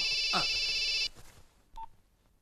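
A telephone rings in a scene from the Telugu action comedy film Chatrapathi. A bright electronic ring sounds for about a second, then a short beep follows after a pause, quiet in the mix.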